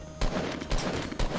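Rapid bursts of gunfire in the video game Fortnite, three loud volleys spaced about half a second apart, close and sharp over a steady game background with no talking.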